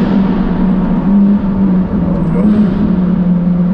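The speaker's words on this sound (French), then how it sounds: "même au ralenti, la voiture fait un bruit qui est indécent" A Ferrari engine idles in a tunnel in Monaco, a steady deep rumble with a low throb holding level throughout, close and loud, with no voices.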